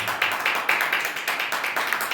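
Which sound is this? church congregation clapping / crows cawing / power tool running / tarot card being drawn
church congregation clapping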